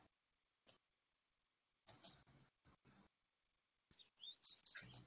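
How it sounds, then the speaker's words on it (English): Sparse, high chirps from a bird or two, quiet and intermittent, with short bursts separated by silence and a busier flurry near the end. "I hear some birds, which sounds really nice."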